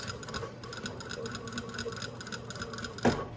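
A sewing machine stitches topstitching with a steady, fast mechanical ticking and whirring, close and continuous, ending with a brief louder clunk near the end.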